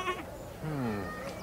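A sheep gives a short nearby bleat and then a longer wavering one, moderately loud, with a faint third call trailing off at the end.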